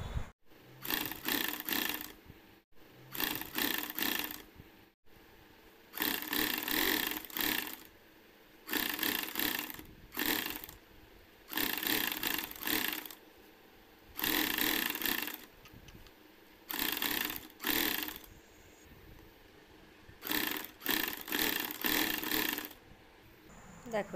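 A sewing machine stitches an iron bag holder in a string of loud bursts, each lasting a second or two, broken by short pauses, with no talking.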